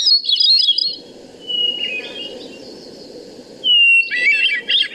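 A hermit thrush, Vermont's state bird, sings in a New England woodland: bright fluty phrases open and close the passage over a soft rushing background, with a lower whistled note between.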